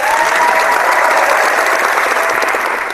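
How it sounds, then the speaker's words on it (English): Brief sarcastic clapping from a small group, a dense steady burst of claps close to the microphone that holds for about three seconds. "that was a sarcastic clap there"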